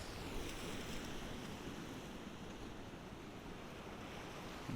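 Sea swell washing onto a shore where an angler fishes for cod, a steady close roar of surf and water, with wind buffeting the microphone throughout and no voice.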